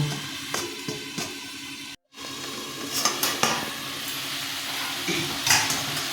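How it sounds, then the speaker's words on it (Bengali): Katla fish curry with tomato bubbling in a pot, a steady broad sizzle and simmer with occasional stirring clinks, briefly cut off mid-way, no talk. "ঝোলটা ফুটে গেছে মাছগুলো ছেড়ে দিচ্ছে"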